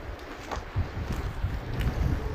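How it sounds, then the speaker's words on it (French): Wind buffeting a phone microphone outdoors on a walk through a village, a constant low rumble with gusty swells throughout, close and steady with no voices. "Il y a du vent, j'espère que ça pourrira pas la vidéo."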